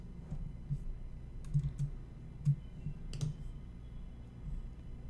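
Sparse, soft key clicks from a computer keyboard, a few taps scattered over several seconds, close by in a quiet room.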